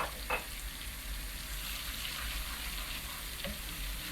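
Dried mint frying in bubbling butter and olive oil, a steady close sizzle with a couple of faint spoon clinks over the hiss.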